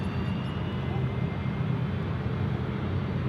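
Qantas airliner passing at Sydney Airport, a loud, continuous jet roar that fills the whole stretch without letting up.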